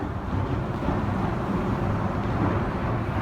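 Cars rolling over the Interstate 65 bridge overhead, heard from the trail below in Fultondale, a steady low rumble with airy wash and no distinct passes, moderately loud throughout.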